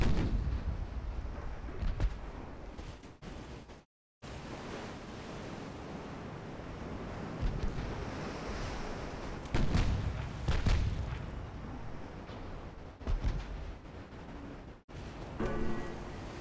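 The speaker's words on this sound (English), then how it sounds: "Wonder if we'll get one more broadside off from our 16s." Battleship 16-inch guns fire broadsides in Ultimate Admiral Dreadnoughts: heavy booming blasts roll out over a continuous roar of ocean waves and wind, with a brief drop to silence early on.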